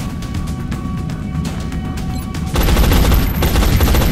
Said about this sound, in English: Go for the laser pistol shot.